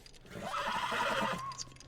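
A horse in The Last of Us whinnies once, a loud drawn-out neigh that rises and falls for over a second, with a faint clip-clop of hooves.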